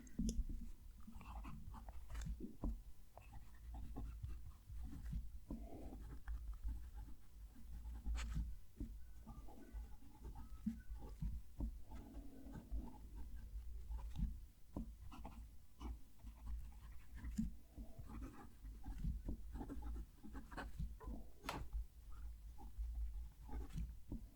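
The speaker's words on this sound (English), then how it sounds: "That nib is ever so soft to write with." Soft, continuous scratching of a Pelikan M1000 fountain pen nib gliding across paper, close and quiet, with faint strokes and small taps recurring steadily throughout.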